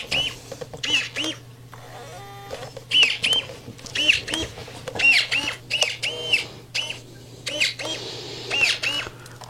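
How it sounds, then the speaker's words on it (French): A 6Dot braille label printer embosses a label, giving repeated short mechanical clicks and squeaky whirring bursts in an irregular rhythm over a steady low hum, heard up close. "C'est en train d'imprimer."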